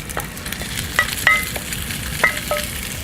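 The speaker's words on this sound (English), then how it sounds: "Now just let that pork do its thing and sizzle for, up to about a minute." Pork sizzles in a hot pan beside pushed-aside noodles and vegetables, a close, steady crackle broken by a few clicks and taps of a utensil, with no voices.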